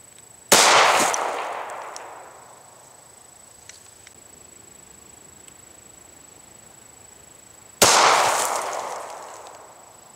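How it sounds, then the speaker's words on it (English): Two loud gunshots from a .40 caliber handgun fired at a water jug, the first a CCI shotshell and the second a Remington Golden Saber 180 grain jacketed hollow point, each a sharp crack with a long decaying tail, about seven seconds apart. "The first one is with the shot shell. Second, Remington Golden Saber, 180 grain jacketed hollow point."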